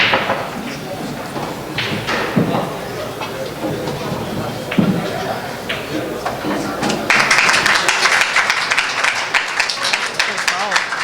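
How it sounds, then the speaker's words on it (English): A crowd at a 10-ball pool match breaks into applause that builds and holds steady toward the end, under ongoing commentary from a nearby announcer. "We're probably going to see the crowd applause after this 10 ball goes down."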